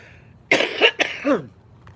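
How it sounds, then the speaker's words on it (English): A single person coughs a few times in a quick, harsh cluster, close and fairly loud, followed by quiet. "That's not what's making me cough."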